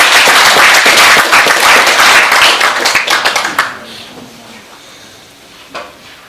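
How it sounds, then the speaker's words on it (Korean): Warm audience applause welcoming a speaker at a commemorative ceremony about An Jung-geun, loud dense clapping that thins into scattered claps and fades out by the midpoint, leaving near quiet with a faint tap. "뜨거운 박수로 맞아주시기 바랍니다."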